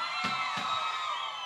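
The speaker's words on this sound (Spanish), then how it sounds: "Aplauso para este gemelo." A crowd at a twins contest cheers and claps for one twin, a dense roar of voices broken by a couple of sharp slaps.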